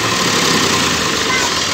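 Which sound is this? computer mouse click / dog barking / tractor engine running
tractor engine running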